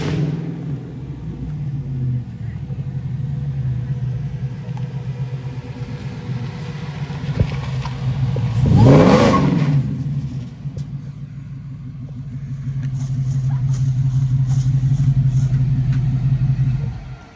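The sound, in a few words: truck arriving at the house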